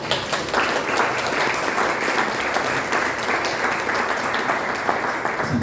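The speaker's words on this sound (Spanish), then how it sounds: "para quienes pido también un fuerte aplauso" Audience applause at a book presentation: sustained, dense clapping from a sizable crowd, steady and loud for the whole stretch without any speech over it.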